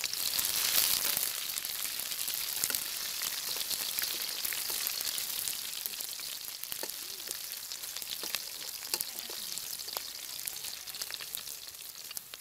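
Green chillies hitting hot oil for a Bengali egg curry, a steady bright sizzle and crackle of frying that holds throughout, close and fairly loud with no speech.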